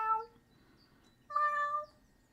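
A voice imitates a cat's meow twice, two drawn-out nasal calls separated by a short pause, fairly clear and close.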